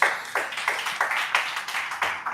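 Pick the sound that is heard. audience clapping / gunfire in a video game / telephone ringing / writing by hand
audience clapping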